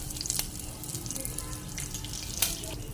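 Mustard seeds and curry leaves crackling in hot oil, a continuous close hissing fizz dotted with small sharp pops, one louder burst near the end, with no speech.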